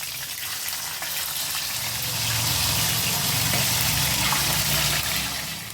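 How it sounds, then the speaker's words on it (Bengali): Katla fish pieces shallow-frying and being turned in a pan of oil, a continuous close hiss that swells louder partway through, with no speech. "এখন মাছগুলো আমি উল্টে পাল্টে ভেজে নেব।"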